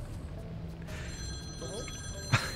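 A telephone bell rings briefly in the Mario + Rabbids: Kingdom Battle Donkey Kong Adventure game, a bright repeated metallic trill over game background sound, ending with a short thump.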